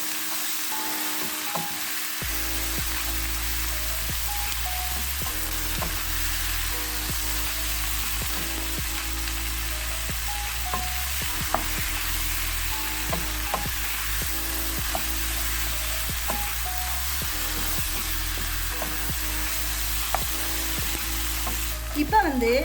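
Prawns for a coconut milk curry sizzle steadily in a pan, with intermittent scraping and stirring clicks throughout; continuous close frying noise with no voices.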